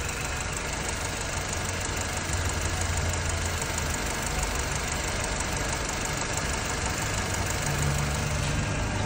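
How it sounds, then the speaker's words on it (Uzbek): A Chevrolet Cobalt engine idles roughly with a continuous low rumble and faint uneven shaking pulses, steady and close throughout with no talking. "Endi qaranglar, motorda ishlashi."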